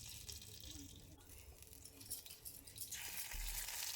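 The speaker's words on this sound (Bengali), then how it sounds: "এবার কড়াইতে সর্ষের তেল দিয়ে এর মধ্যে কালো জিরে আর একটা কাঁচা লঙ্কা দিয়ে দিলাম ফোড়নে" Black cumin and a green chili are tempered in hot mustard oil in a kadai, giving a faint, soft sizzle that swells slightly toward the end.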